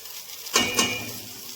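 A masala of onion, ginger, garlic and green chilli fries in a pan; two quick scraping stirs rise over a soft background sizzle.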